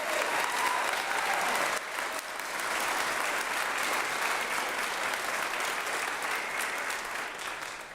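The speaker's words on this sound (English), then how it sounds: "one more round of applause for all of our graduates." Sustained applause from a graduation seminar audience honoring teacher education graduates, a steady dense wash of clapping throughout with a brief dip partway, no voices standing out.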